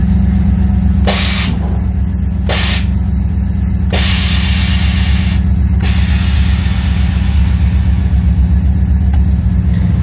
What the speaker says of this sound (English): The exhaust that's on this truck is just a Flowmaster.